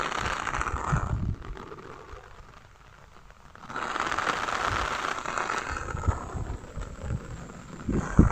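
Heavy rain with strong wind sweeps through a village, a broad steady hiss with gusty roar that dips briefly in the middle before swelling back loud and continuous, with no voices.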